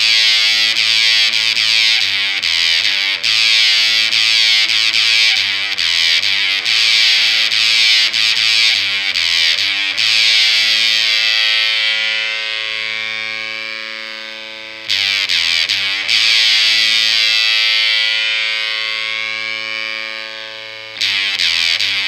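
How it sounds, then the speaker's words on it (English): An electric guitar played through a Phantom Fuzz, a Mosrite-style 1960s fuzz pedal set buzzy and bright, plays a loud distorted riff of choppy repeated notes, then long sustained fuzzed chords that fade and restart; no voices. "I'm using the Phantom Fuzz. It's based on a Mosrite style 60s fuzz, and it's quite towards the top end"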